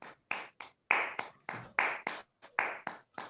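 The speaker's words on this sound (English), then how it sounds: "please give a big round of applause to Alok Simha." A few people at an online Toastmasters club meeting clap, producing sparse, distinct claps in short irregular bursts with silent gaps between them.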